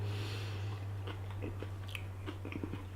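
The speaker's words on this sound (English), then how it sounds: "very juicy and crunchy, as I'm sure you can tell from listening" Close, crisp bites and wet crunching chews of a juicy Aji Bolsa de Dulce pepper, a handful of sharp crunches over about three seconds against a steady low hum, with no talking.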